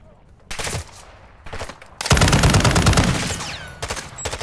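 Bursts of automatic gunfire in Call of Duty: Modern Warfare II, loud and close, coming in short volleys and then a longer sustained rattle, with brief gaps between.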